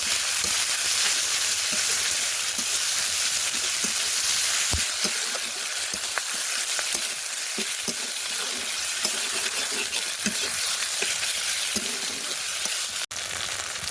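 A stone-ground paste of garlic, ginger, cumin and chili frying in a pan, steady close sizzling with scattered stirring scrapes and a sharp click near the end.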